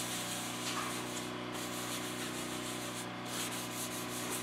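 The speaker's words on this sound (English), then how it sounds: "I'm just going to take some coconut oil and just rub it into the surface" Steady rubbing and scrubbing against the metal surface of an Ashland Cabin Tender cook stove as coconut oil is worked in, a continuous close, dense friction noise without speech.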